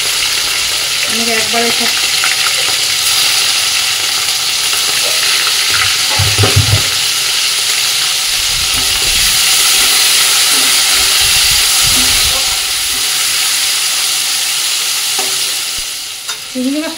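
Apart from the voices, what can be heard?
prawns with salt and turmeric frying in oil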